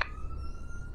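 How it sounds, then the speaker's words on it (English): A faint siren in a video game roleplay gives a steady, sustained tone with a soft click at the start. It plays quietly over a low background hum for about a second. "More sirens by the spotter."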